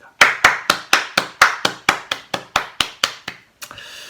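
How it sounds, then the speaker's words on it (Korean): A church congregation claps in praise at the close of a Sunday worship service, giving about fourteen sharp, evenly spaced claps in unison, loud and close, ending with a slightly scattered final clap. "우리 예배를 받으신 하나님께 영광의 박수 올려드립니다."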